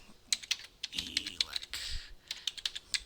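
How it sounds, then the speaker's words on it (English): Typing on a computer keyboard while entering text into an Open Office spreadsheet: a quick, irregular burst of close, crisp key clicks with short pauses, alone with no talking. "So we'll just type in"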